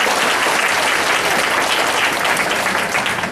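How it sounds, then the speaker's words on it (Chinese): A church congregation at a Taiwanese-language Sunday service with baptisms bursts into applause: loud, dense, sustained clapping from many people for a few seconds without letup. "来咱鼓掌来"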